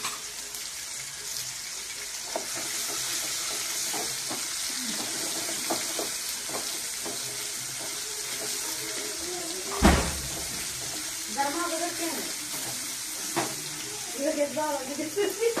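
Curry leaves sizzling in hot oil while tempering dal in a home kitchen, a steady close frying hiss with occasional clinks and spoon stirs, and a voice speaking briefly toward the end.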